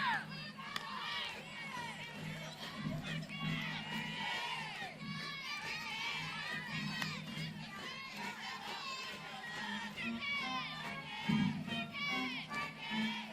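A large crowd at a college softball game in Oxford, Ole Miss hosting Alabama, cheering and shouting continuously with many high children's voices, swelling in bursts near the end.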